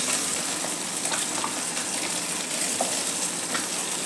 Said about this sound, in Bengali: বাকি যে মাছগুলো আছে সেগুলোকেও এইভাবেই ভেজে নেব